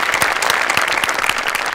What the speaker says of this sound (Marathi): अमोलसाठी एकदा जोरदार टाळ्या व्हायला पाहिजे.